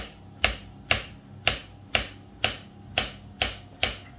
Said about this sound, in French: on va couper les bananes comme ça en rondelles